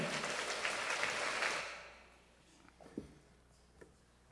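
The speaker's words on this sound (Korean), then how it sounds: "박수 한번 칩시다" A church congregation breaks into a short burst of applause that fades after about a second and a half, leaving a quiet room with a few faint knocks.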